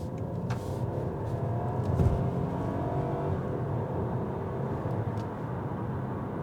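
A BMW 2 Series with a three-cylinder engine accelerates hard away from a junction, giving a steady low growl heard from inside the car that builds slightly and holds without a break, with no talk over it.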